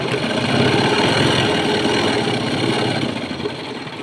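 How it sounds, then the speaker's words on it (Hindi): A sewing machine double-stitches fabric for a small purse, its steady mechanical whirr running close and continuous for several seconds before easing slightly near the end. "हम डबल सिलाई कर लेंगे।"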